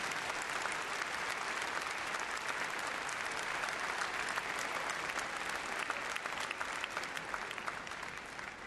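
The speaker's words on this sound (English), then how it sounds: "a big round of applause" Steady, dense crowd applause at an outdoor RAF display, continuous and even for the whole stretch with no break and only a slight easing at the very end.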